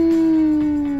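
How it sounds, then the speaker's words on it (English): A dog howls in the Fallout 76 video game, one steady sustained wailing tone that holds for the whole second, loud and close, with faint game noise behind it. "That's just my dog Sparky."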